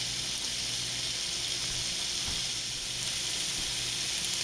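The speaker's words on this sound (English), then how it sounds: "once I start to hear the sausage start to sizzle" Sausage sizzles in a pan on the stove, a steady close hiss of frying fat with faint crackles throughout, no voices.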